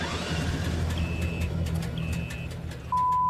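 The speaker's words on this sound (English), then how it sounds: "I don't know what that beeping is" Gold mining equipment gives off unexplained beeping: three short electronic tones, the last one lower and held, sounding over a low rumbling engine drone with no talking.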